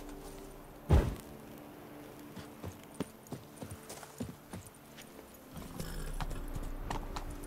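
Roach the horse's hooves clip-clopping in the video game Witcher 3, a rhythmic series of fairly soft hoofbeats after a sharp thump, ending under a low rumbling background, with no talk.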